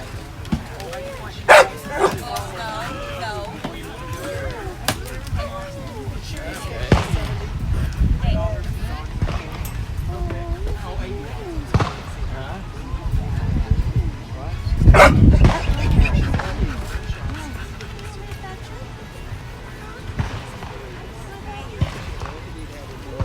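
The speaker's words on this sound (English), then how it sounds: "Oh, look at the puppies." Puppies at a humane society event bark, yip and whimper in repeated bursts under near, busy crowd chatter, with one louder barking flurry midway.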